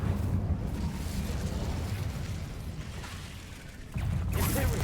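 An Incendio fire spell cast in the Hogwarts Legacy video game: a steady low roaring rumble with crackling texture, then a louder whooshing burst of flame near the end, with no talking.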